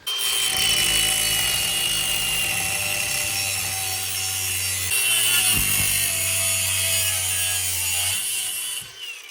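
A handsaw cutting through a piece of material for a removable mud flap mount on a Dodge Ram off-road build, with steady back-and-forth strokes running close and loud for about eight seconds before stopping.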